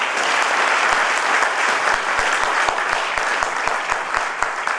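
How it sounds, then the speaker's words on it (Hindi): Steady, dense applause from an audience at a Diamond BK Vinayak event in honour of Rawat sahab, loud and continuous throughout with sharp individual claps standing out. "रावत साहब के लिए एक जोरदार ताली बजा जाइए"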